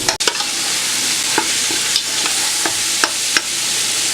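Ground turkey for chili browns in a hot pan with a steady close sizzle, while a spatula breaks it up with repeated scraping taps across the sizzle; no voices.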